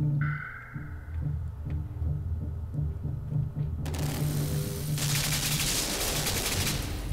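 Rapid, repeated gunfire from the Limbo video game, a steady rhythmic stream of muffled shots that turns into a harsher, noisier burst of fire partway through, loud and close.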